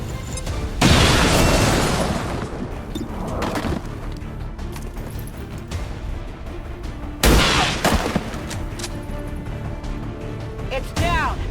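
Grenade explosion in the video game XCOM 2: War of the Chosen, a loud booming burst near the start followed by a second heavy blast later, set among gunfire and game effects.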